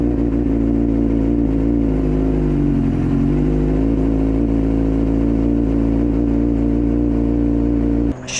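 A Suzuki GSXR 600 motorcycle engine drones loud and steady while being ridden, its pitch dipping briefly midway and then holding, ending with a sudden burst of wind or handling noise.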